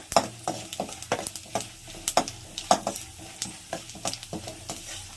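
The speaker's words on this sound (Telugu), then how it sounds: "చూడండి ఇలా వేపుకోవాలన్నమాట కొంచెం పప్పులంతా వేగిన తర్వాత" Mustard seeds, cumin, black gram and chana dal tempering in hot oil with dried red chilies for upma, crackling and popping in rapid irregular bursts with spoon stirring, close and fairly loud, no talking.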